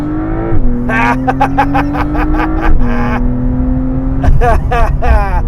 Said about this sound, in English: It's a bit muted, but you still get the 911 noise, and I love that 911 noise.